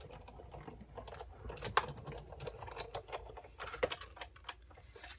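A manual die-cutting machine with a cutting plate feeds paper through while a card banner is cut, giving faint, irregular clicking and ratcheting taps that are close and quiet.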